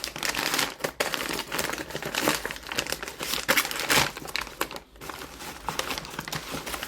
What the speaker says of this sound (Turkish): İlk başta bunu açacağım. Ufak paketi.